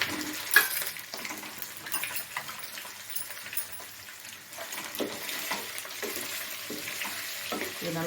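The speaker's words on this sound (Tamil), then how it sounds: "இந்த எண்ணெயில் கொஞ்சம் நல்லா பரட்டி எடுக்கணும்." Potatoes and egg fry in oil in a home kitchen: a soft, continuous sizzle with a few stirring scrapes and clinks, close and moderately quiet.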